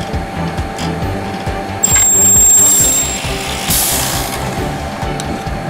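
An ElmaTech Midispot AV fully automatic spot welding machine runs with a rhythmic mechanical clatter and hum, broken by a brief high whine and a short burst of hissing discharge near the middle, with no voices.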